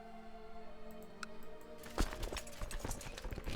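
Horse archer cavalry in the strategy video game Crusader Kings II produces a game sound effect of galloping horse hooves. The clattering clip-clop begins after a quiet stretch, then continues as a rapid, fairly soft rhythm.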